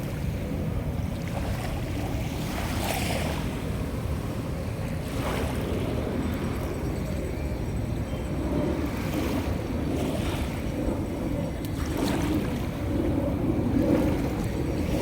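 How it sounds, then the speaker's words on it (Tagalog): Sea waves wash in steadily at Dolomite Beach on Manila Bay, a continuous broad surf roar mixed with wind buffeting the microphone, with no speech. "Ito naman yung dagat oh."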